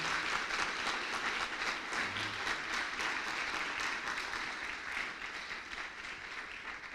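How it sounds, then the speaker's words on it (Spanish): A church congregation applauds in praise during a Spanish-language sermon, a dense, steady wash of many hands clapping that fills the space for the whole stretch, evenly sustained and moderately loud. "Dale honra al Señor con un aplauso de honor a nuestro Dios."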